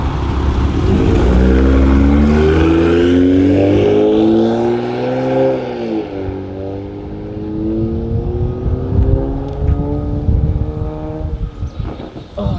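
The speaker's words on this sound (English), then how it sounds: "get a few shots from outside the car, and so I can see it drive by" A tuned Toyota Supra with added power drives past outside, its loud engine note climbing and falling as it goes by. The exhaust stays close and strong the whole way, then rough engine noise trails off while it moves away.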